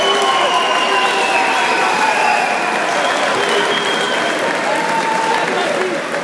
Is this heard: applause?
yes